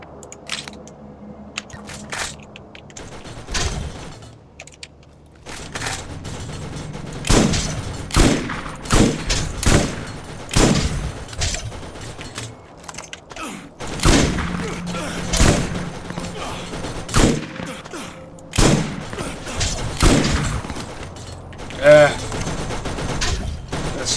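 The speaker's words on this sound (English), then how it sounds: "It's a level 28 legendary rocket launcher." A level 28 legendary rocket launcher in Borderlands 1 fires repeatedly, punchy close blasts and crunching impacts recurring every second or two amid busy game action, with a voice talking over it.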